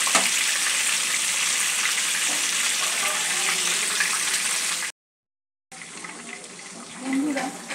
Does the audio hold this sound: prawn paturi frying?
yes